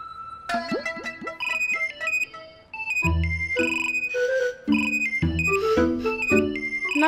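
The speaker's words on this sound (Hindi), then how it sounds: "कहीं अननोन नंबर से कौन फोन कर रहा है चंचल को?" A melodic electronic ringtone plays loudly, starting with a rising chime phrase and continuing as a repeating synthesized tune.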